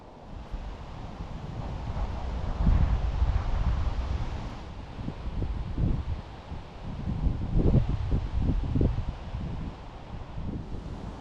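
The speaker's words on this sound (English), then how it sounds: "Bloody wind's picking up in this stretch now." Wind gusting across a stretch of the River Ribble during evening feeder fishing, a constant roaring rush buffeting the microphone and swelling in stronger gusts, with rustling and faint low rumbles beneath and no talking.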